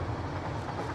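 A train in the factory-building game Satisfactory rolls past as a brief, dense rumble with a faint rhythmic clatter, steady and fairly loud for its short second, no voices.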